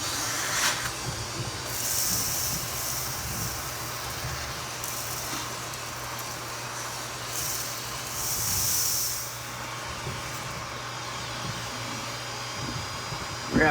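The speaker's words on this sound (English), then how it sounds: "I will get that vacuum and we'll go ahead and clean all of that up" A vacuum cleaner sucks up debris from the baffle of a Regency i2400 stove, producing a steady, close, breathy hiss that runs unbroken throughout with slight swells in level.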